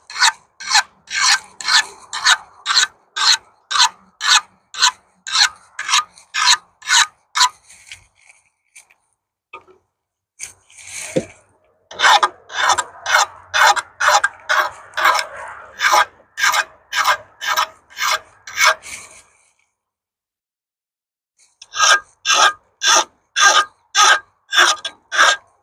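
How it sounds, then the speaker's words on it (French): A hand file rasps back and forth on thuya wood in steady, rhythmic strokes, close and loud, coming in several runs of quick even scrapes separated by short pauses. "Coup de lime."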